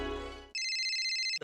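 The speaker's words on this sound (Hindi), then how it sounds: "दया का फोन" An incoming call sets off a telephone ringtone, a bright steady electronic warble that follows a brief musical tone, loud and clear and cutting off abruptly.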